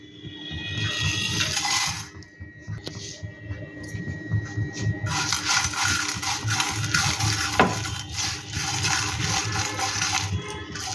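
Whole cardamom, cinnamon, fennel, coriander, black peppercorns and seven or eight dried red chillies fry in a pan, a continuous hissing sizzle with rattling and scraping of spices against the metal.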